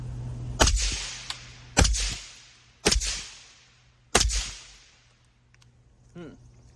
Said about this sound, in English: Let's shoot a little bit without her ears on and see how she sounds.